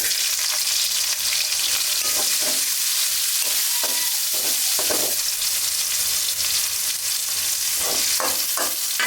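Onions frying in a pan for a home-cooked Bengali dish, a steady close hiss of sizzling oil with occasional stirring scrapes and crackles running throughout.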